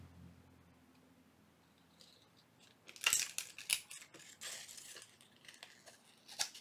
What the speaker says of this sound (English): My scissors are sticking.